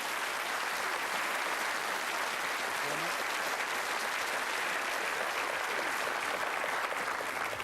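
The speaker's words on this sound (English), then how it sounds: "Nice applause there" A studio audience at a 1992 TV darts game show claps for darts player Phil Taylor, a steady, even wash of applause lasting several seconds with some murmuring voices mixed in.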